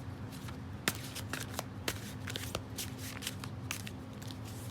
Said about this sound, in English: Let's give a shuffle like this because I feel like I haven't gotten it shuffled good enough.